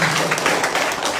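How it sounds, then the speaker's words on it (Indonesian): Continuous clapping from a crowd at a political party school opening in Merauke, applauding an elderly guest, steady and fairly close with faint voices underneath. "Tepuk tangan untuk Opa."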